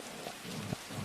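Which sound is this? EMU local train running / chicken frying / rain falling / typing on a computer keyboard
rain falling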